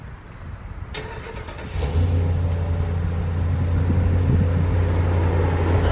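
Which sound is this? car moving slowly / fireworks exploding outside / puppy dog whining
car moving slowly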